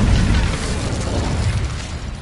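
Casting Incendio in the Hogwarts video game produces a short, loud fiery whoosh, a dense booming rush lasting a couple of seconds with no talk.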